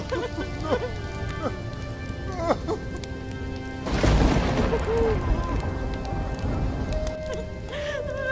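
Heavy rain pours steadily through a rural village night in a dramatic story scene, a dense continuous wash with a louder surge midway, mixed under background music and tones.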